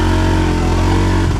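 A motorcycle engine runs loud and close, a steady throaty idle with a slight rise in revs near the end, with no voices.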